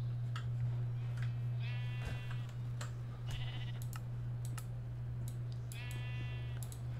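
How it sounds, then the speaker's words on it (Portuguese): Two blocky bleats from a Minecraft sheep, one near the two-second mark and another near the end, over a constant low electrical hum and scattered keyboard clicks. "Oi, ovelha, beleza."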